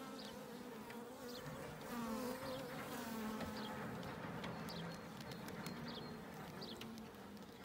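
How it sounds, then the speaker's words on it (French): A steady, dense buzz of honeybees at an opened horizontal hive hums throughout, like many bees swarming close by, with faint higher chirps and ticks above it. "il y a une petite sortie de 2-3 abeilles parce que j'ai fait un à-coup"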